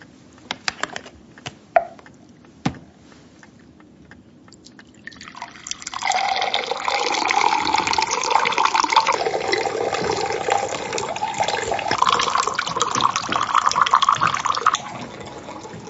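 Water runs into a glass, filling steadily for several seconds after a quieter stretch of drips and small clicks, close and fairly loud, with no talking over it.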